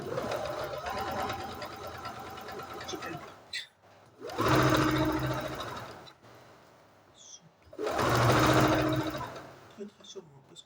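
A new MAC sewing machine runs in bursts, its rapid mechanical whir starting and stopping three times, with a quieter stretch between runs and faint talk in the background.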